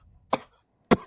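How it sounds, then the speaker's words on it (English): Two short, sharp coughs from one person, close and dry, separated by a brief silent pause. "I can't laugh without coughing"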